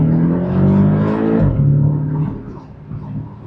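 Porsche 718 Boxster GTS engine revving loudly up and then dropping back, a close, throaty rising whine that falls away and settles into a lower steady drone before fading.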